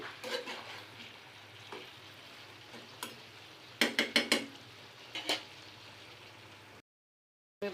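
Bottle gourd and rohu fish curry stirred in a pan, with a faint steady sizzle under scattered spoon scrapes and clinks that bunch into a quick cluster of clacks near the middle, then stop.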